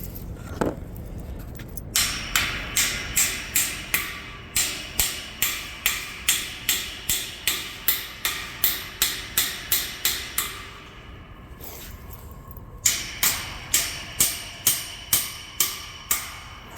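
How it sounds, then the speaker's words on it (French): A hammer striking a metal baker's rack clip during assembly, a long run of loud, evenly spaced ringing blows, two bursts separated by a brief pause, close and alone. "j'ai juste à fesser là-dessus avec mon marteau encore une fois"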